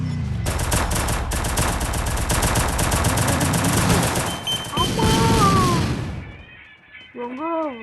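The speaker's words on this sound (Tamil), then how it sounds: "லேண்ட் மைன் நிமிஷி வெடிச்சிருச்சு" Rapid bursts of gunfire and a heavy explosion from a land mine in a video game fill most of the stretch, loud and dense, with a voice speaking over the end and whining tones afterward.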